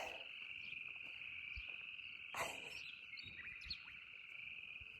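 Frogs chorus outdoors at night in a steady, dense trill, with scattered chirps, bird calls and a cricket mixed in, and a few soft low knocks close by.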